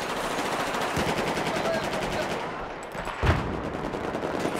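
Rapid bursts of automatic gunfire and single shots crackle through a Battlefield 4 firefight at a Mekong dam, dense and continuous with a sharp close blast near the end, while players talk faintly underneath.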